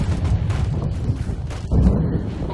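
Gunfire rattles through a Operation Flashpoint: Red River firefight, a dense continuous stream of shots and low booms with a heavier burst near the end, no voices over it.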